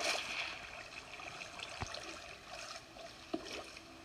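A boat slides down a flowing water slide in Minecraft, with a steady trickling, streaming wash of water and a couple of soft knocks, fairly quiet and with no talking.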